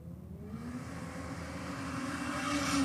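A Ford Falcon with a 4-litre six-cylinder engine launches from a drag racing start line, its engine note rising steadily and growing louder over a few seconds, heard from a distance without talk.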